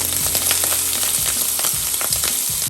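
Squid fries in oil in a pan for a seafood tomato soup, a loud, constant sizzle close up with light stirring scrapes and no talking.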